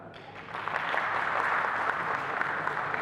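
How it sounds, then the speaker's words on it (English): An audience at a Ciarb Pakistan Branch event breaks into applause, the clapping swelling within the first second into a steady, moderately distant round that continues to the end. "I think that deserves a clap."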